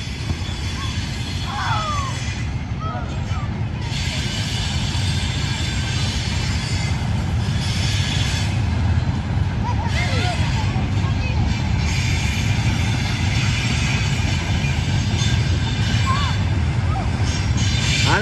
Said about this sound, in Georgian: მატარებელი გუგუნცობს